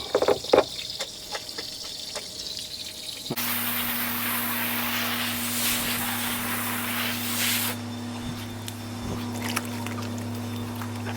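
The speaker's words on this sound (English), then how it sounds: "open this little valve on the side, and you will see the water coming out. Let that gravity drain." Water gushes out of a hot tub's opened side drain valve in a steady, broad rushing hiss with a low hum beneath it. It starts abruptly after a few seconds of quiet handling noise and continues close and loud to the end.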